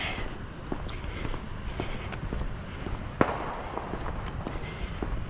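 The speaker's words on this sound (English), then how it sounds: "And a pop and some whistling." Faint crackles scattered through outdoor noise during a night walk in Maine, then one sharp pop of a bottle rocket stands out, fairly distant.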